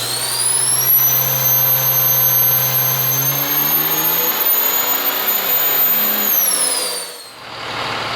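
A 2006 diesel Mega Cab truck with its intake removed roars under load on a dyno, the turbo whistling as a rising high whine and the engine drone climbing steadily before easing off near the end.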